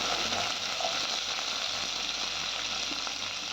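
Curry leaves fry in hot oil for a dry curry: a close, steady crackling sizzle that stays even for a few seconds with no voices.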